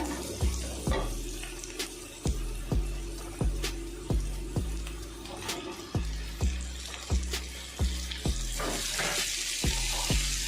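Okra sizzles in hot oil while a spatula scrapes and taps the pan at a steady, regular rhythm, being stir-fried for about ten minutes.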